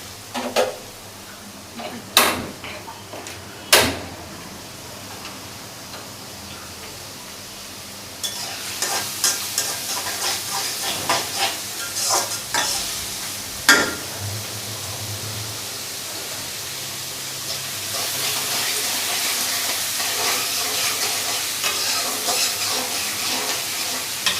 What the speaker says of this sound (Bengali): দুই চুলায় একসাথে রান্না হইতেছে একটা আলু ভাজা হবে আর একটা মাছ রান্না হবে